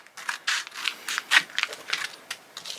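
Scissors cutting two mosquito-repellent pads from an airtight blister pack, a run of short crisp snips and crinkly plastic rubs, close and fairly quiet, with no talk.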